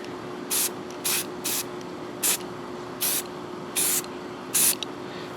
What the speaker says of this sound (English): I'm using gloss clear. You want to do your first layer kind of light because it can wrinkle the spray paint.